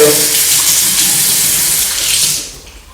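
A tap runs warm water into a basin in a steady, loud, close hiss that fades slightly at the end.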